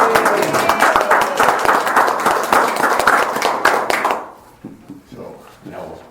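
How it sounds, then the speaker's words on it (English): Applause at a city council meeting in Vader: a roomful of people clapping briskly for about four seconds before it drops away, leaving scattered faint taps and room noise. "applause."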